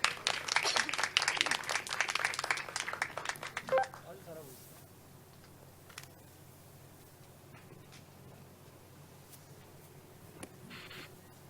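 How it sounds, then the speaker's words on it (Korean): Applause from attendees at a district safety training event in Dalseong, Daegu breaks out briefly for the first few seconds, then stops, leaving a quiet room with faint voices and scattered small sounds. "많은 박수 부탁드리겠습니다"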